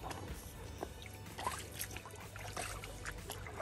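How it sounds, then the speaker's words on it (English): Paddle strokes from a paddleboard dip and swish through water in soft, irregular splashes over a constant outdoor hiss, faint and close, with no talking. "Getting used to all the little paddle strokes."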